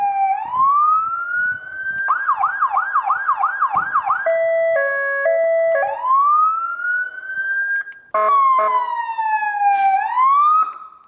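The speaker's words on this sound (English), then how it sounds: "This is on Siren Test mode," A police car siren cycling through test-mode tones, alternating wails, rapid yelps and two-tone hi-lo patterns, loud and close with brief gaps between changes.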